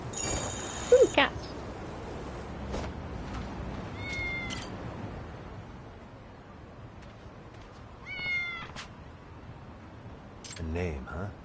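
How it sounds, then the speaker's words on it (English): Several cats meow in Lost Judgment, short rising calls that come in brief bursts over a busy game backdrop, with a louder cry near the start and more meows later on. "Ooh, cats!"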